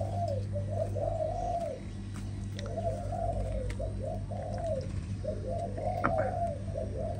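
A spotted dove coos in repeated rhythmic phrases of soft, rounded notes, fairly close, over a steady low hum with faint chirps in the background.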